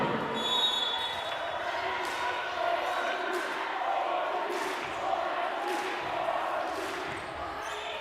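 Spectators fill the gym at a college volleyball match between Oregon Tech and Bushnell, a steady broad murmur and cheer from a large crowd with repeated thuds of the ball and an announcer talking over it.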